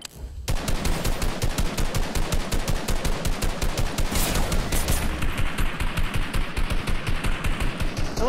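Rapid automatic gunfire rattles loudly and continuously in the Fortnite video game as shots pour into a tall built tower, a dense fast rhythm of close, sharp bursts with no voices.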